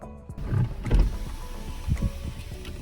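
A soft electric motor whirs as the sunroof of a Cadillac ATS 2.0 slides open, with a few mechanical clunks and creaks, fairly close and steady.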